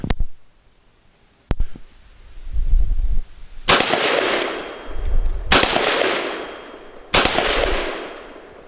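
BRN10 AR10 recreation rifle firing four sharp, loud, close shots at irregular intervals, each with a reverberant tail, and no talking.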